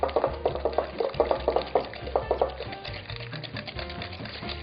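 Cheese being whisked with condensed milk in a bowl, a quick rhythmic run of clicking, tapping strokes against the bowl that turns into softer, busier mixing toward the end, close and clear.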